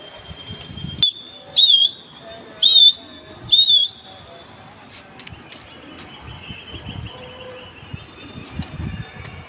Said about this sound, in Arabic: تقليبة الحمام بص يا جماعة